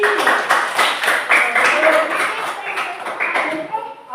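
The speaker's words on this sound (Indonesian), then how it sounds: "Coba tepuk tangan Bang Sabti" Classroom of students clapping hands together on a teacher's cue, a quick run of sharp, rhythmic claps close by, mixed with voices talking.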